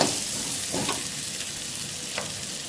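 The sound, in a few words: frying sweet potato for pulusu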